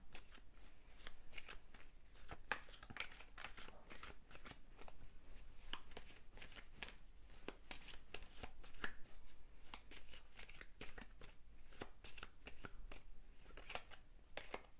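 Tarot cards being shuffled and drawn, a steady run of crisp riffling and flicking strokes up close, continuing throughout with no talk.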